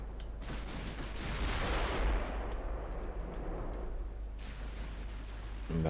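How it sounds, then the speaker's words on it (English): Battleships fire their guns at long range in Ultimate Admiral Dreadnoughts, a 1941 China campaign battle, heard as deep booming blasts that swell into a broad, rumbling roar and then fade, followed by another distant boom. "Battleships firing at very long range,"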